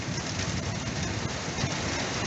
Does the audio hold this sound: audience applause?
no